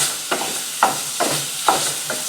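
Maple-flavored sausage browning in a pan, a soft steady sizzle broken by rhythmic stirring scrapes about every half second, close and alone without talk.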